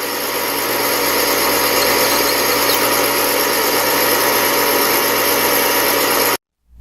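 Motor of a Frankford Arsenal case trim and prep center running steadily with a loud, even mechanical whine and hum, close by, that cuts off abruptly near the end.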